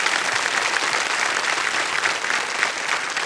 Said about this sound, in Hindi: एक बार जोरदार तालियां फिर से बज जाए इनके लिए।